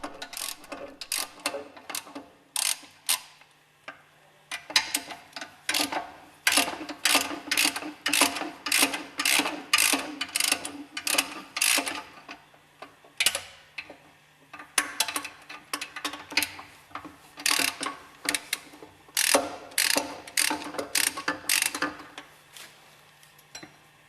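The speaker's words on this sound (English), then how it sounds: "Unscrew the hex head screws on the bearing housing." Hex head screws on a bearing housing are worked loose with a ratcheting tool, bursts of rapid close clicking separated by short pauses and a faint steady hum in the background.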